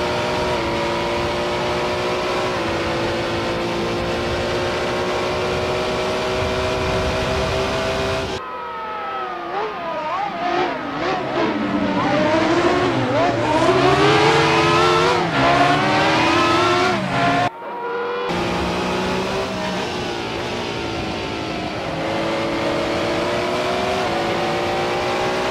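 Peugeot 9X8 race car engine at speed around Monza, a loud sustained high-pitched roar with rising and falling revs, abrupt drops as the throttle lifts for corners, then hard acceleration again, close and continuous.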